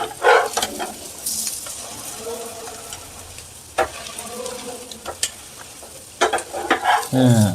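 An egg omelette, like a thin egg flatbread, fries in oil in a pan, with a soft, steady sizzle under irregular spatula scrapes and clatters, several sharp stirring knocks and a short burst of noise at the end.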